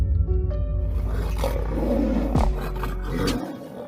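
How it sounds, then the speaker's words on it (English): A lion and a tiger roar at each other while fighting, loud, close, rumbling growls that swell and overlap continuously before cutting off abruptly near the end. "Check out our number 2 spot, lion versus tiger."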